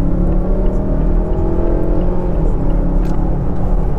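Mazda CX-9 crossover pulling hard from standstill to 100 km/h, a steady loud engine drone with tyre and road roar from inside the cabin, continuous throughout with no talk.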